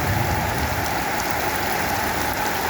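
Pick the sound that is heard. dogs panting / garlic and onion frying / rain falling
rain falling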